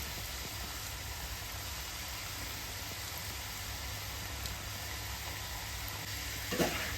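Salty shankarpali, a savoury flour snack, fries in hot oil with a steady, faint sizzle throughout and a brief clatter near the end.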